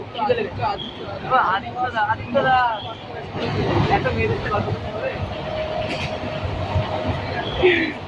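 Steady rumble and rattle of a moving passenger train carriage, continuous throughout, with people talking over the noise in the first few seconds.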